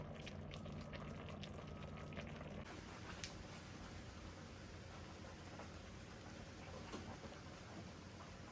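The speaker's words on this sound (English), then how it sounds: "Oh damn, it's still bubbling." Pot of kimchi stew at a rolling boil, a dense continuous bubbling and spattering that sounds much like steady rain, close and unbroken, with no talking.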